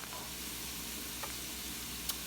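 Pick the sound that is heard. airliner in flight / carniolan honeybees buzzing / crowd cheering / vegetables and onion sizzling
vegetables and onion sizzling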